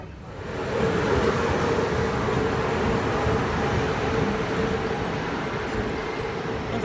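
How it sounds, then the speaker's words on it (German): Train pulling into a station in Romania, a steady broad rumble of wheels and carriages that swells in and holds loud and near throughout, with no talk over it. "Unser Zug ist da, yeah, mit einer Stunde Verspätung."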